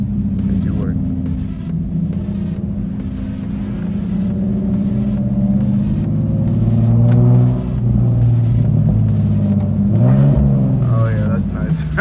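An Infiniti G37 rumbles steadily with a loose exhaust bolt, giving a low throb with repeated rattling ticks running through it. The engine swells a little at times, and people talk over it.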